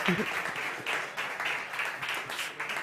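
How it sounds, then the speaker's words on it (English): Audience applause at a startup competition on energy and sustainability, welcoming a speaker to the stage: steady, dense clapping from a crowd that continues throughout, with a brief cheer or voice early on. "Very good, big applause."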